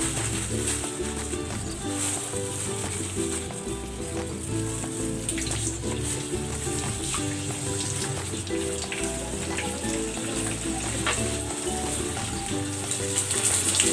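Milkfish (bangus) fries in hot oil with a continuous, close, rain-like sizzle and crackle that holds steady throughout, with faint voices underneath.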